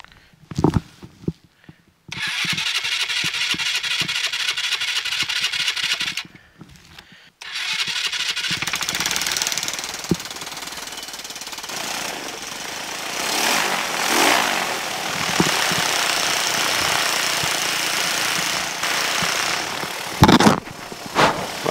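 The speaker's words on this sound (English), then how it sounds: "Whilst the engine started." A Dragonfly microlight aircraft engine on a wet airfield cranks in short bursts, cuts out briefly, then catches and settles into a loud, steady running drone with slight rises in pitch, with no talk over it.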